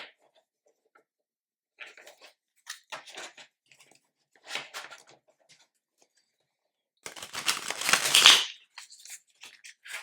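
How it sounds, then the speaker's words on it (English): A tarot card deck being overhand shuffled, heard as close, intermittent swishing and papery bursts, with a longer, louder run of rapid card flicks near the end and quiet gaps between. "I really like overhand shuffling this deck because you hear this swishing sound"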